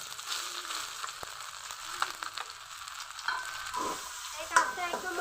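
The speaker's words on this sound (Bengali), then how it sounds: "আর ডালের পেস্টটা একটু ভেজে নিব" Lentil paste fries in hot oil with five-spice seeds in a wok, a soft crackling sizzle broken by scraping stirs and occasional spatula clinks, close and alone without talk.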